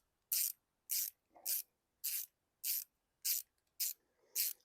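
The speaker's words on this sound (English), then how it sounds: "just use a handheld ratchet. Tighten these up by hand." A handheld 1/4-inch drive ratchet with a 7mm socket tightens carburetor bolts on an old Bolens or Troy-Bilt lawn mower, eight crisp, evenly spaced ratcheting bursts close up, with no talking.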